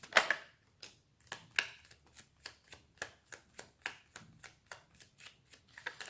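Tarot cards being shuffled in a steady series of soft riffling snaps and slaps, about a dozen evenly spaced, close and quiet with no talking.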